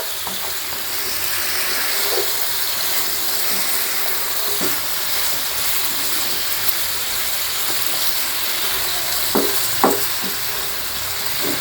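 Partly boiled cauliflower for a korma is stirred and fried with spices in a pan, with a steady close sizzle and occasional scraping clicks from the spatula.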